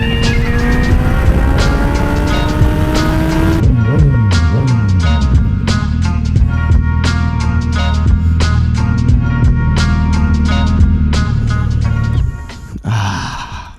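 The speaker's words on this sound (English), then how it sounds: "If that isn't one of the best sounding bikes that I've ever had" A loud aftermarket exhaust on a Suzuki Hayabusa motorcycle revs up and down, then settles into a rapid popping, crackling idle before a short drop in level near the end.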